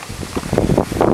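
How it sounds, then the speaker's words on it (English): Wind buffets the microphone in loud, rumbling gusts, a rough low roar throughout the short moment. "Sorry about the wind."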